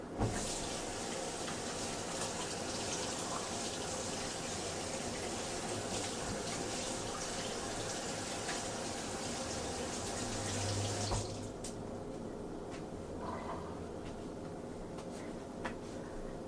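Tap water runs steadily into a sink while catfish fillets are rinsed under it, a constant close splashing rush that continues for about eleven seconds before cutting off, leaving faint room noise and small clinks.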